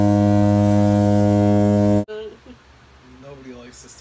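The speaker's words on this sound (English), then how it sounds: "Did you hear that air horn?" A loud, sustained air horn blares for about two seconds, then cuts off abruptly, followed by people talking.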